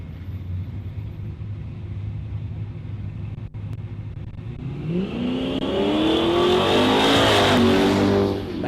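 A drag racing car launches and accelerates down the strip at Warwick Dragway, engine roar climbing steeply in pitch and loudness after a low idle rumble, close and powerful, no voices.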